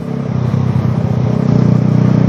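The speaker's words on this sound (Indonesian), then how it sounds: "yang kalian denger ya, kalian aku pakai knalpot racing lagi cuy" A motorcycle with a standard engine and an aftermarket racing exhaust idles loud and close, giving a rough, pulsing low drone that rises slightly toward the end.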